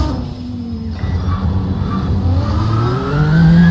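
Vintage Audi race cars accelerate on the circuit during an IMSA vintage endurance race, engines rising in pitch as they climb through the gears, loud and close, growing louder toward the end.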